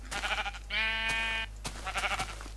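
A Minecraft sheep bleats once, a short clear wavering call standing alone between softer background sounds.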